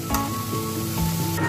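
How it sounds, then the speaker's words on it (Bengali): Onions fry in a pan with a steady, close hiss and sizzle, a brief burst of crackling marking the start, continuing evenly for a moment without talk. "পেঁয়াজটাকে একটু আগে ভাজা ভাজা করে নেব।"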